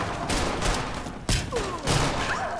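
Gunfire in the Fallout 4 video game, several rapid bursts of shots with one sharp crack near the middle, set against game sounds and effects.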